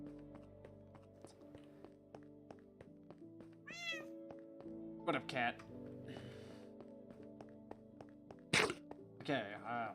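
A cat meows a few times in short rising bursts, set against steady tonal game music and occasional clicks from a Minecraft modpack session, with a person talking intermittently.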